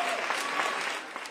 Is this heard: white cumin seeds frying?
no